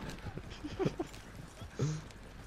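Horses galloping away in the video game Red Dead Redemption 2, heard as a short run of soft hoof clip-clops, with faint voices around them.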